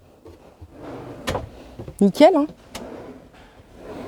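Drawers of a wall-hung bathroom vanity unit with a wood-effect finish slide and knock shut in a home-improvement store, a few short, close thuds and rolling slides, with someone talking around them.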